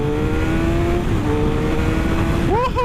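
A 2015 Suzuki GSX-R 750 motorcycle in first gear, its engine droning steadily at a constant pitch, loud and close, then rising sharply as the rider accelerates near the end.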